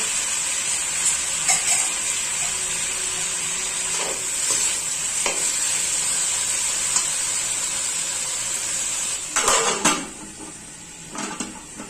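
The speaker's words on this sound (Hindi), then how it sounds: "हमें इसे तब तक तलना है जब तक ये लाल ना हो जाए।" Taro root (arbi) frying in hot oil for a Chhattisgarh amchur arbi recipe, a steady loud sizzle throughout with occasional stirring and clinks of a utensil against the pan.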